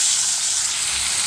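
A bay leaf sizzles in hot oil with dried chili and cumin, making a loud, dense, continuous frying hiss close by.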